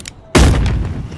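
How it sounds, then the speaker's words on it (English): A single loud gunshot from the video game Animal Company, a sharp booming blast that rings out and decays over about a second, with no talk over it. "I didn't mean to shoot you."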